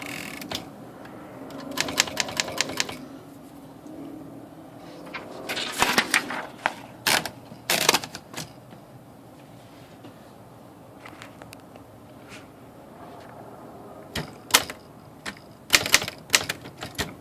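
Royal typewriter being fitted with a new black and red ribbon, its mechanism clicking and ratcheting in scattered bursts of sharp metallic taps and rapid clatter, separated by quieter pauses, close and fairly loud with no talk.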